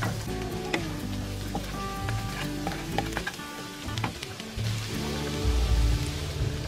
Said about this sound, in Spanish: Y le vamos a agregar el ajo. Vamos a freírlo un poquito.